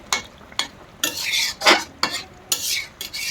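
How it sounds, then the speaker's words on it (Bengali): Bata fish curry (pona mach) being stirred in a pot, village-style cooking: a spoon scrapes and swishes through the thick gravy in repeated strokes, several clear scraping sweeps spaced irregularly, close and fairly loud with a faint sizzle beneath. "একটু নাড়া দিয়ে দেবো, করে একটু নেড়ে নেড়ে দেবো"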